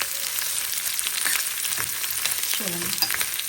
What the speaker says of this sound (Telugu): కొంచెం పచ్చివాసన పోయే వరకు మంచిగా ఫ్రై చేసుకుంటాం